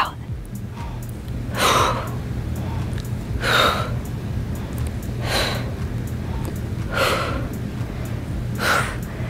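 Someone takes audible breaths in and out during a total-body workout, with five strong, evenly spaced breathy bursts a couple of seconds apart, close and loud.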